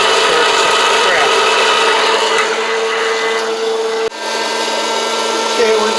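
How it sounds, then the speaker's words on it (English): Coffee beans tumble in a hot-air popcorn popper used as a roaster at full city roast, a loud continuous fan roar with faint crackles starting underneath as second crack begins, steady apart from a brief dip. "we're just starting to hear the beginning of second crack here"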